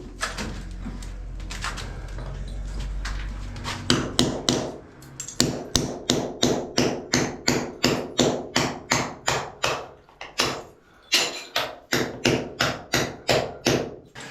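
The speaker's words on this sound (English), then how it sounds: "lightly tapping away" A hammer lightly taps a bracket into place in a kitchen: a long run of sharp, evenly spaced knocks, close and clear, preceded by a few seconds of rumbling handling noise.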